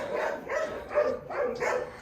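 Several barks from dogs at an animal shelter, a quick run of about four or five close, moderately loud woofs in steady rhythm, with no talk.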